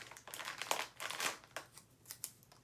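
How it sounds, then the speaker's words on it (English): A chip bag crinkles in short, soft, crackly bursts as masking tape is pressed around it to fix it to a skewer, quiet and close with brief pauses between handlings. "take a chip bag, flip it over, and I'm using my masking tape again, and I'm just going to tape it"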